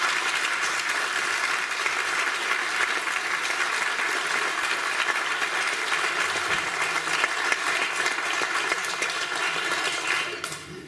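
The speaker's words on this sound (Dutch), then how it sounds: "ik verwacht wel een groot applaus natuurlijk voor deze dames" An audience at a Dutch trio's announcement event applauds steadily and loudly for the three girls, the clapping continuing as a dense, even wash before easing slightly at the end.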